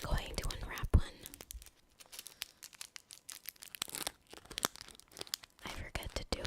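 A hard candy wrapper crinkles and tears close to the mic in sharp, uneven bursts, with soft whispering in between.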